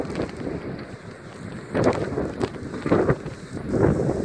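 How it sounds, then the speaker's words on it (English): Strong gusting wind roars during a thunderstorm, buffeting the microphone in rough surges that swell and fade, with louder blasts near the middle and end and no voices. "The wind is going absolutely nuts!"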